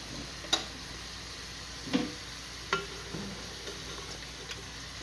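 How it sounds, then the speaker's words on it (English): Eggplant frying in oil in a pan for tomato pasta sauce gives a low, steady sizzle, broken by sharp clicks of a utensil against the pan about every second or so. "I'm just going to fry it just a little bit in oil before I add the rest of the sauce"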